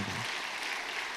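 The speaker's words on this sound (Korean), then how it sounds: "우리 샤론 찬양단에게 축복의 박수 한번 해주셨으면 좋겠습니다" A church congregation at an evening revival service gives a short round of applause for a praise team, a fairly faint, even wash of clapping after a brief low thump at the start.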